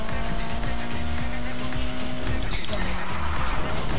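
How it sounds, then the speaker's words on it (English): Car tires squeal through drifts in the racing video game Need for Speed Heat, long sustained screeches over a constant engine drone and game music, with a player talking now and then. "I'm messing up easy drifts now"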